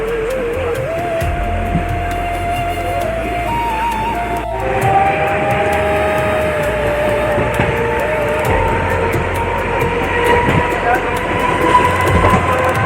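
Navi Mumbai local train running between stations on the Belapur to Uran line, a steady close rumble of wheels and carriage with rhythmic rail clatter and a rising electric motor whine throughout.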